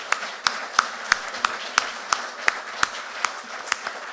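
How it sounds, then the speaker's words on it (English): An audience at a Cardigan riding candidates debate applauding steadily, with sharp claps cutting through a dense wash of clapping at an even pace throughout. "Let's clap for the candidates."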